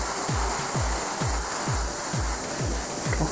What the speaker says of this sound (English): now we will spray this Space Marine in a 45-degree angle